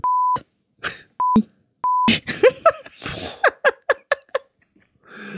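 Three short, sharp censor beep tones cut in over bursts of sound, followed by giggling and breathy laughter.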